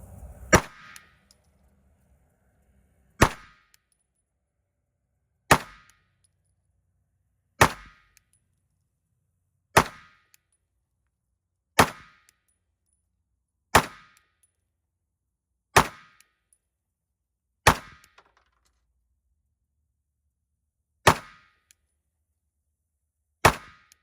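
Ten sharp 9mm pistol shots firing 124-grain Gold Dot +P rounds, evenly spaced about two seconds apart, each a loud crack with a quick decay, with nothing else between them.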